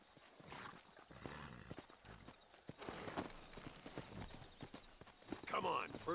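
Horse hooves clip-clop at a walking pace in the Red Dead Redemption video game, a steady rhythmic clatter heard beneath ongoing speech, with a brief whinny-like sound near the end.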